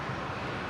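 A QantasLink airliner starting its takeoff roll on runway 19 left at Brisbane International, heard as a faint, steady distant engine roar with no voices over it.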